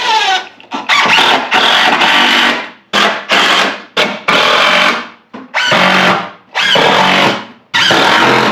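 A power drill drives screws into the wooden floor of a cargo trailer, in loud, close bursts of whining spin separated by short pauses, about nine runs in a row with no talk.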